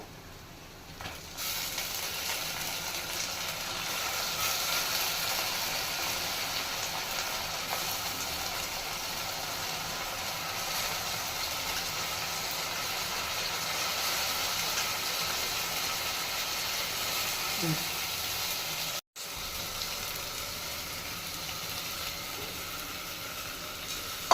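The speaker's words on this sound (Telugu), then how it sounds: "కొంచెం వేగిన తర్వాత పెసరపప్పు వేస్తానండి కాసేపు వేగాలి" Moong dal being fried in a pan for a tempering gives a steady, even sizzle and hiss that runs for a long stretch, with a brief cut near the end.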